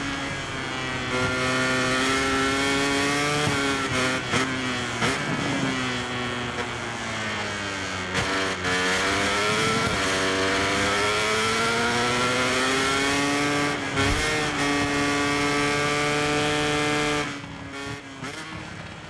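A Honda race bike in MotoGP 24 circling the Assen circuit, its engine screaming steadily at high revs with rising and falling pitch through gear changes, loud and continuous for most of the run before easing off at the end.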